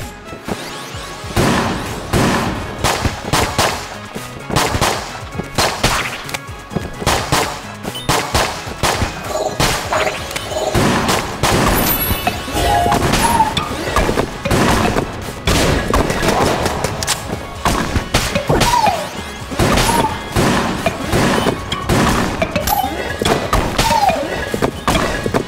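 Weapon fire in the game Exit the Gungeon, a rapid, relentless stream of punchy shots and thuds hammering on for the whole stretch, loud and close.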